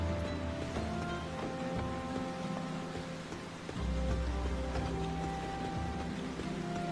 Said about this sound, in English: Starting to rain.